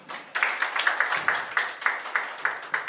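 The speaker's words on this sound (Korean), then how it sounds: "박수로 부탁드리겠습니다" An audience at an academic event claps to welcome a media artist to the stage, sparse, rhythmic hand claps at a moderate level, fairly evenly spaced.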